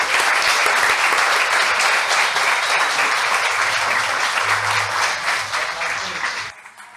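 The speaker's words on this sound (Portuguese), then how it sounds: "Palmas para ele, gente." A live arena audience at a business talk show applauds a guest with loud, continuous clapping that holds steady, then tapers off and drops away at the end.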